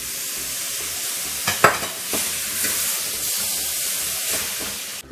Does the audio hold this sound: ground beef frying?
yes